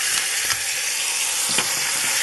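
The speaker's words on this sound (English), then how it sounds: "going to lay it down in the pan, give it a little reverse sear, get some color on it" Top round steak searing in a hot pan, a close, constant loud sizzle with faint scrapes and taps of the pan underneath.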